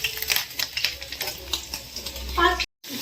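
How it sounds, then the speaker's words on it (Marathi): Homemade paneer frying in a kadhai, a steady crackling sizzle with scattered pops and stirring scrapes, close and fairly loud, under faint background voices. "तुमचं काय घरी केलेलं पनीर आहे ना, हे असं लवकर बघ फ्राय व्हायला लागतं"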